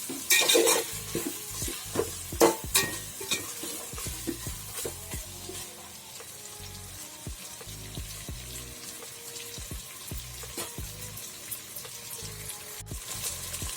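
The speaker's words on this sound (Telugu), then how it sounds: "ఒకసారి మిక్స్ చేసుకోవాలి. ఒక 1 మినిట్ ఫ్రై చేసుకోవాలి." Prawns sizzle in oil in a pan for biryani while a spoon scrapes and stirs them, with scattered clinks against the pan over a steady frying hiss, close and moderately loud, no speech.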